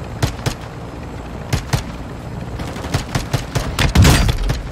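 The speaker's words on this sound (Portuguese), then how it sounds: "trocando tiro ali embaixo, ó" Gunfire exchange in a Call of Duty match: sharp, loud shots crack in irregular bursts, some single and some in quick clusters, with a heavier volley near the end.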